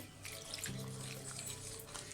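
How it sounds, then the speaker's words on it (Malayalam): Water is poured in small amounts into a batter for a cauliflower dish, making a short, steady running trickle close by with no talking. "ഇനി നമുക്കിതിലോട്ട് കുറച്ചായിട്ട് വെള്ളം ഒഴിച്ചു കൊടുക്കണം."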